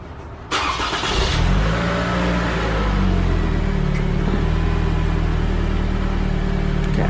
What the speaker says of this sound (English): So let's have someone start the vehicle and then press that brake pedal a few times and keep it pressed.